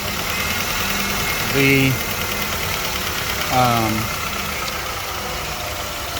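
A 1998 Honda Odyssey with a swapped JDM F23A engine idles steadily and evenly at close range, a low continuous hum, with a few brief spoken words over it.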